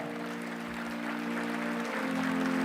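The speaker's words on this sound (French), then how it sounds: "qu'on applaudit très fortement" Steady applause from an audience greeting a university award recipient at a ceremony, a continuous wash of clapping heard from a distance with a low steady hum beneath it.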